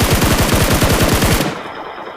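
Automatic gunfire in PUBG Mobile, a loud rapid burst of evenly spaced shots that ends abruptly and leaves a faint ringing tail, with nobody talking.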